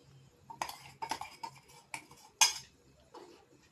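A spoon scrapes and clinks around a pot while vegetable curry is mixed, several short uneven metallic knocks and stirs, fairly close but soft, with no voices.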